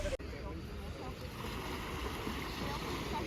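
Sea waves wash steadily onto a beach on Rhodes, a continuous broadband surf with gusts of wind noise on the microphone throughout, sounding close and fairly loud.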